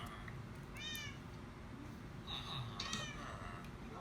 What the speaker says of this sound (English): Nope, that's a cat.